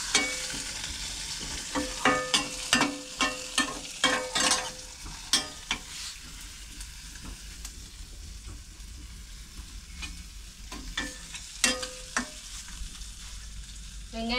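Onions sautéing in a pan for a village-style tamarind curry, a soft continuous fry under repeated scraping and stirring clatter from a utensil, close up with no voices.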